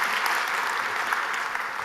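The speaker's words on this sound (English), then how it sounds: "let's give them a big round of applause" Sustained audience applause at a community partnership celebration, a dense, steady wash of many hands clapping throughout, loud and without a break.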